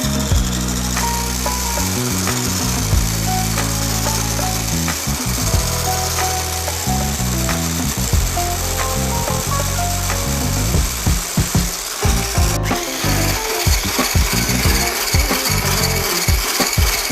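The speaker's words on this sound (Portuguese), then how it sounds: "Chantilly sempre muito gelado para você conseguir armar. E nós vamos bater até conseguir um creme." An electric mixer whips very cold chantilly cream for a banoffee pie, its motor droning loudly with a rhythmic churning throb that shifts to choppier, scraping pulses toward the end.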